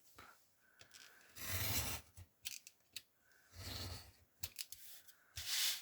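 Scissors snip through fabric in several separate bursts of crisp cutting and rasping, close up, with short pauses and light handling noises between the cuts.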